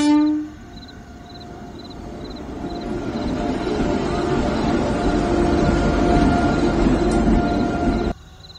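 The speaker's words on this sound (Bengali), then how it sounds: "কিছুক্ষণ পরে ট্রেন আসে এবং তারা ট্রেনে উঠে পড়ে।" A train pulls into a station, opening with a short horn blast, then a steady, swelling rumble of wheels and cars that holds loud and close before cutting off abruptly.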